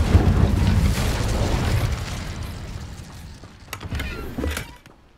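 A fire spell cast in the video game Hogwarts Legacy bursts with a loud whooshing blast, then fades into crackling, rumbling flames with a few sharp pops toward the end.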